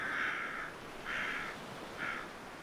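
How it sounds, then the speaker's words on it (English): A crow caws three times, loud and close, each harsh call separated by a short pause, against a faint steady background hiss. "Always by Dhumavati's side is her loyal companion, the crow."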